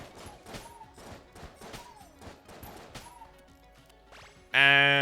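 Rapid sidearm shots from the Enter the Gungeon video game crackle in quick bursts with short pitched pings between them, followed by a sudden loud sustained tone at the end.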